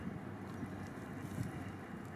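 Steady wind buffeting a microphone outdoors, a continuous low rumble with gusty swells and no voices.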